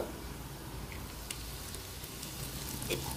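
Mustard seeds, turmeric and asafoetida sizzling in hot oil for a Maharashtrian ridge gourd curry, a soft continuous crackle with a few sharper pops from the seeds, close and alone.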